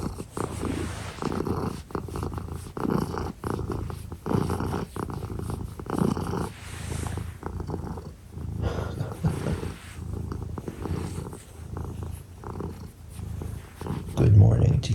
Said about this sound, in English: You're purring so hard.